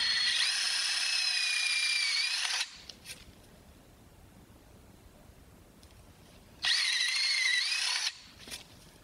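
A drill with a half-inch brad point bit bores a mortise in wood in two whining bursts, the first about two and a half seconds long and the second shorter, separated by near silence.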